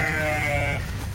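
A single sheep bleats loudly and close by, a wavering nasal call lasting about a second.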